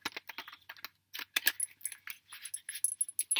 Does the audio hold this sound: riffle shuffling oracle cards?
yes